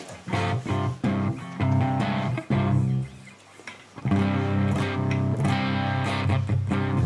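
Clean-toned electric guitar tuned down to drop C rings out in full sustained chords, loud and close, with a short quieter gap partway through before the chords return; no talking.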